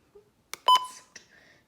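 A Midland WR120EZ weather radio beeps as its select button is pressed: a soft click followed by a short, clear electronic tone and a fainter trailing blip, close and isolated in quiet.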